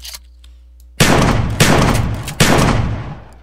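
Three loud, close shotgun blasts from an M1912 trench gun pump-action in a Minecraft battle setting, evenly spaced with each boom decaying into a brief tail before the next.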